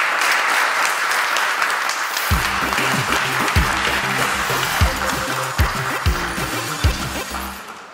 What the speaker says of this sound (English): A big applause for the guys.